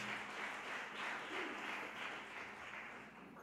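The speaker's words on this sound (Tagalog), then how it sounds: "Pumalakpak sa ating dakilang Diyos." A church congregation applauds during a preaching service, a steady roll of many hands clapping at a distance, faint and even, fading slightly near the end, with no talk over it.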